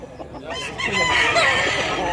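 Close, loud crowing from a handsome gamefowl rooster for sale in Mantalungon, Cebu, one sustained call rising after a brief quiet start, with fowl noises around it.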